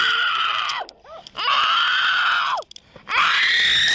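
A woman screams loudly in three long, piercing bursts separated by short gaps, close to the microphone.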